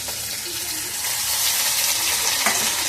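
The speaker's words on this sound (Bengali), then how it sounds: "এবার আমি জিরে, আদা, শুকনো লঙ্কা, গোলমরিচ বাটাটা দিয়ে দিলাম এর ভিতর, দিয়ে এবার ভালো করে কষিয়ে নেব" Cumin, ginger, dried chilli and pepper paste fry with fish in hot oil, giving a loud, continuous sizzle with some stirring scrapes close to the pan and no talking.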